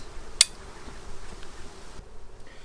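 Honey bees in an open hive box hum as a faint, steady drone, broken once by a brief sharp click near the start.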